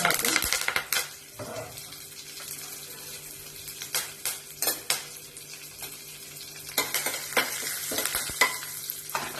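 Curry leaves sizzle in hot oil with mustard seeds, cumin, chana dal and urad dal for a capsicum curry, a steady fry crackle broken by loud clinks and stirring scrapes of a utensil against the pan, with no talk.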